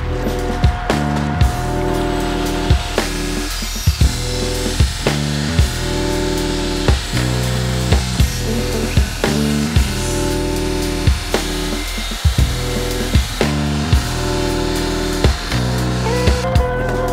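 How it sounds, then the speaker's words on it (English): A steel Scottish claymore sword blade is ground down on a grinder, a steady loud whine broken by regular short pauses and restarts across the whole stretch, with no talking. "I'm gonna grind this back to true material, being very careful not to break it."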